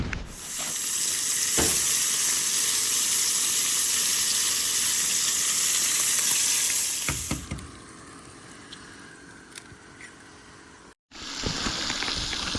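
Bacon frying in a pan on an ice fishing trip, a loud, dense sizzle for several seconds that then drops to a quieter crackle with scattered pops.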